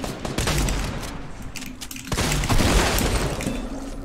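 Gunfire in a Fortnite match, a dense rattle of shots and impacts with heavier bursts near the start and again after the midpoint, loud and steady throughout with no talk.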